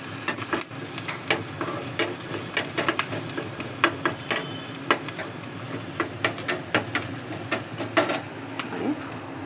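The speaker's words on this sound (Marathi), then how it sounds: "मसाला थोडंसं गरम मसाला, थोडं हलवून घेऊया" A spoon stirs spices frying in a pan for a mung bean curry, with soft sizzling under repeated sharp scraping clicks of the utensil against the pan, close and steady.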